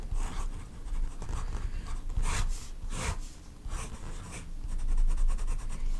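A double broad nib fountain pen scratches and rubs across paper in steady drawing strokes, close and fairly soft, with brief bursts of quicker shading movement and no talking.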